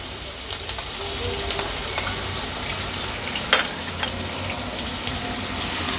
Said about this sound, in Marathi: गरम मसाले फोडणीला घातल्यावर हा बारीक चिरलेला कांदा ॲड करणार आहोत